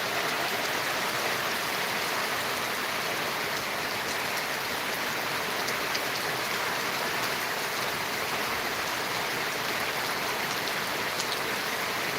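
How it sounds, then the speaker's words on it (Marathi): Heavy rain pours down steadily and loudly over upland farmland, a constant dense hiss with no letup. "वाटतं असं जोरदार पाऊस"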